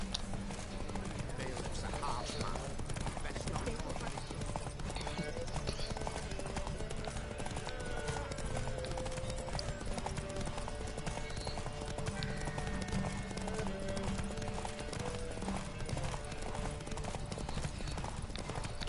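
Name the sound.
horse Roach galloping in a race, from the video game Witcher 3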